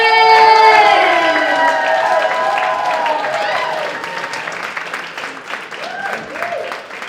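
A comedy club crowd bursts into applause and cheering with whoops and shouts, loud at first and gradually easing, with scattered voices calling out over the clapping.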